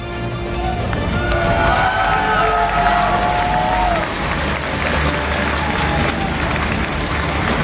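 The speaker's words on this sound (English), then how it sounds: "Please give a round of applause to our runner-ups." An audience at the GSL 2012 World Championship StarCraft esports ceremony gives sustained, dense applause and cheering for the runner-up teams, loud and unbroken, with faint tonal sounds underneath.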